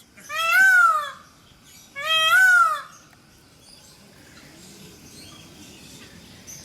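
Two loud, high-pitched peeping calls in quick succession from peafowl chicks at a zoo, followed by quiet background rustle.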